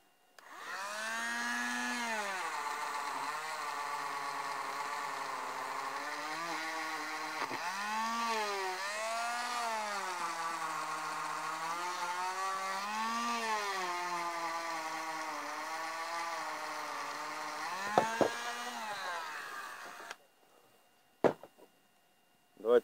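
A Dremel rotary tool spins at about 12,000 rpm while polishing with a buffing attachment and paste, giving a steady high whine that wavers in pitch under load for about twenty seconds, then stops, followed by a few brief knocks.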